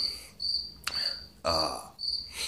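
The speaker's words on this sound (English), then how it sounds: "There's crickets in here." Crickets chirp indoors in several short, shrill bursts with brief gaps, fairly close, broken by a couple of sharp noises.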